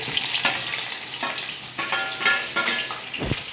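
Sliced onion and green chillies sizzle steadily in hot oil in a pan, a close and continuous hiss broken by the scrape and knock of a spoon as they are stirred.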